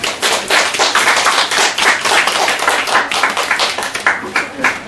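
Audience applause fills a parents' briefing hall in Daegu, a dense, steady patter of many hands clapping together for several seconds, close and loud.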